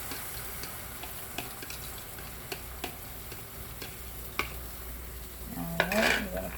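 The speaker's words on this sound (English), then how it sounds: "Giving them a nice stir here." A utensil stirs breakfast food in a buttered pan, soft scraping and light clicking ticks under a low sizzle, ending in a louder clatter of the pan.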